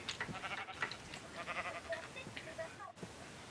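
Sheep bleat in the video game Minecraft, short wavering calls repeating over steady background noise, with people talking at times underneath.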